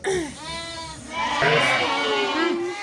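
A young lamb bleats in a series of wavering, close cries, with background talk and handling noise around it.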